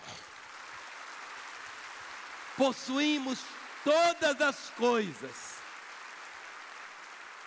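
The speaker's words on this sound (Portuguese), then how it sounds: "Você pode dar um aplauso ao Senhor?" Congregation clapping in a Baptist church during an evening service: a steady, moderate wash of applause runs throughout while a preacher keeps speaking over it.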